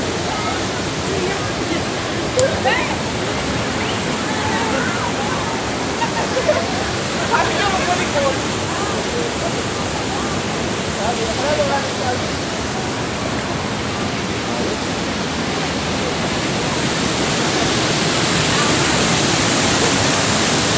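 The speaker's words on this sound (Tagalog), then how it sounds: "Pangalawang talon yun." Steady broadband rush of Talon Pari Falls, a waterfall in Doña Remedios Trinidad, Bulacan, roaring continuously and fairly loud throughout, with a few faint brief knocks.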